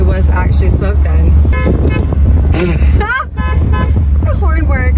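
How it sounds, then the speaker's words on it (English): Horn of a low-mileage 1979 MGB Limited Edition convertible, sounded in a few loud short honks close by, with people talking over and between the blasts. "The horn works."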